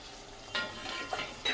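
Boiled and fried eggs and potatoes stirred into a masala in a pan, a soft sizzle broken by three scraping strokes of a spoon against the pan.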